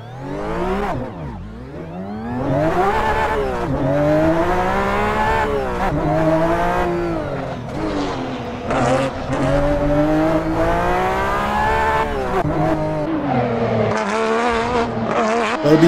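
An RWB race car on the Goodwood hillclimb, its turbocharged engine roaring loud and close with repeated revving rises and falls through the gears, continuous and harsh throughout.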